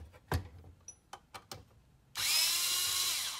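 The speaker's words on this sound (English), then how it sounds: "pull out our 4 screws, hold the bottom cover on" Screws come out of the bottom cover of a Kodak 850H projector: a few scattered clicks and knocks, then a loud, steady whirring drive runs close up for the last second or so.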